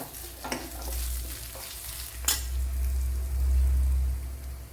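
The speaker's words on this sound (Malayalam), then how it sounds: "കുറച്ച് ശകല മഞ്ഞൾപ്പൊടി ഒരു കാൽ ടീസ്പൂൺ മുളക് പൊടിയും കൂടെ ഇട്ട് കൊടുത്ത് ഒന്ന് മോപ്പിച്ചെടുക്കാം" Turmeric and chili powder sauté in a hot pan for an eggplant curry, giving a steady close sizzle with scraping stirring strokes and soft clinks throughout.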